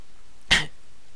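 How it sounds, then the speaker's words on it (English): A single short sneeze bursts out once, close and fairly loud against a quiet background, then fades quickly. "Just a little bit of a sneeze,"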